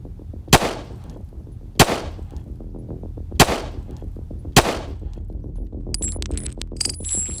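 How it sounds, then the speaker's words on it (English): Four 9mm pistol shots hit bulletproof glass and door armor outdoors, each a sharp loud crack spaced about a second apart, followed by ringing and a faint electronic whine at the end. "So that was a 9mm."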